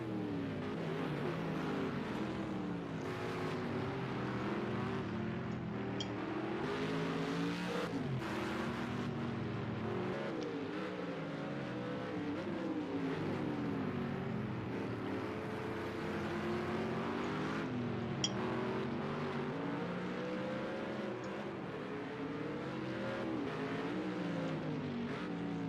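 Sauber C9 Mercedes-Benz race cars roar around the Sugo circuit in a sim racing game, the engines droning steadily and rising and falling in pitch through gear changes, loud and continuous for the whole stretch.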